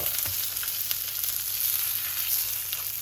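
Mackerel fries on the cooker with a continuous, close sizzle and crackle of hot oil, even in level and unaccompanied by voices.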